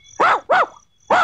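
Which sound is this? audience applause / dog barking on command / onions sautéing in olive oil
dog barking on command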